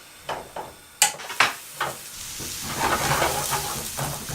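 Greens for saag aloo frying in a pan, with a few sharp clinks and stirring knocks at first, then a steady sizzle and hiss building beneath.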